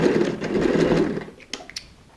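A sewing machine runs a continuous edge stitch along a tote bag, a steady close whir for over a second that then slows and breaks into a few short mechanical clicks.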